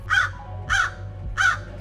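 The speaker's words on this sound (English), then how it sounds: "Sarah's crow was able to fly into an open window and land nearby Ash" Three loud, harsh crow caws spaced evenly about every 0.6 seconds, close and clear over a low steady hum, in a dramatic scene set by an open window.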